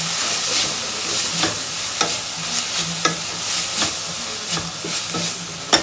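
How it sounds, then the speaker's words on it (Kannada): Drumstick leaves frying in a pan give a steady close sizzle, broken by regular scraping strokes of a spatula about every half second to second. "ಇದು ನುಗ್ಗೆ ಸೊಪ್ಪು ಹಾಕ್ದೆ ಇವಾಗ."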